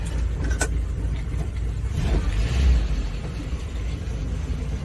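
A Suzuki Samurai engine, just fitted with new parts, idling low, a steady close rumble with no revving and no voices.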